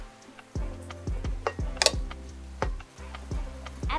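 Garlic, shallot, chili and shrimp stirred together for a spicy Thai tomato salad, giving a series of soft scraping and clinking utensil strokes against a bowl, evenly spaced and close, with no talking.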